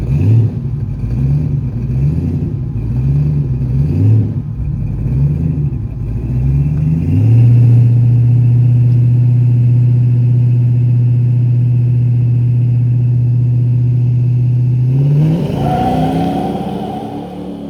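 Chevy S10 single-cab and Ford Ranger extended-cab V8 trucks street racing in Mexico: loud, close engines pulse through repeated revs, hold a long steady roaring pitch, then surge upward in a final hard acceleration.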